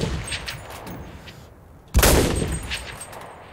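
Gunshots in the CRSED: F.O.A.D. video game, one loud close shot booming out midway above quieter distant firing and game ambience.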